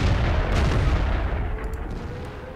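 An artillery gun fires in the World of Tanks video game, a single booming shot followed by a rumbling decay, heard fairly faint without speech.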